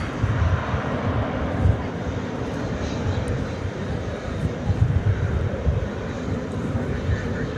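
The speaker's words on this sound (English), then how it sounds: "There you see a parallel landing with an American Airlines plane over on the east side." A distant American Airlines jet lands on a parallel runway on the east side of DFW Airport at night, its steady engine roar and rumble filling the air with a constant wash of noise.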